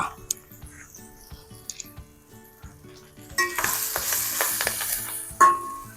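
A pan frying for a chicken curry made with ripe red chillies starts with quiet clinks, then breaks into a bright sizzle halfway through, with stirring scrapes and a sharp clack near the end.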